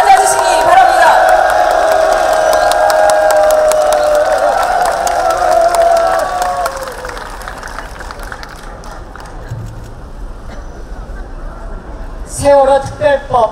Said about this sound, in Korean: 여러분 큰 격려의 박수로 맞아주시기 바랍니다.